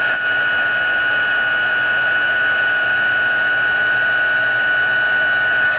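A craft heat tool blows continuously to melt embossing powder, a steady, loud fan-driven roar with a high whine that holds for about six seconds.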